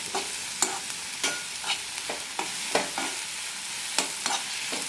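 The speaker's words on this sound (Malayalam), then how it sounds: "തക്കാളി വെന്തുടയുന്നത് വരെ വഴക്കിയെടുക്കാം" Chopped tomatoes and onion sauté in a pan for onion chutney, a soft steady sizzle broken by repeated sharp scrapes of a spoon stirring every half second or so, fairly quiet and close, no talking.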